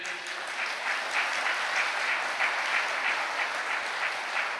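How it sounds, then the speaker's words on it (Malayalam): A church congregation claps in steady, sustained applause at even loudness throughout, with no voices standing out. "ഒന്ന് കൈയുയർത്തി കൈയടിച്ചേ."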